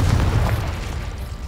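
A Confringo fire-blast spell explodes in Hogwarts Legacy, a dense low boom rumbling from the start and slowly fading over about a second and a half, with no talk over it.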